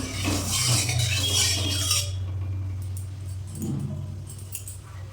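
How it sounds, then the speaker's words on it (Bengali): Homemade lentil dumplings (bori) are stirred and fried in oil in a wok. A hissing sizzle comes first, followed by scattered metallic clinks and scrapes of a spatula against the pan. "হাতে তৈরি করা বড়ি দিয়ে দিলাম, নেড়ে চেড়ে ভেজে নিলাম।"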